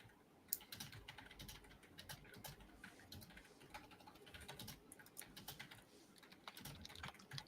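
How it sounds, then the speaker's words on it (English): Fingers tapping on a computer keyboard, quiet irregular clicks in quick bursts with short pauses, faint and close to the microphone, with soft cooing from a dove or pigeon in the background. "I think we can hear you typing."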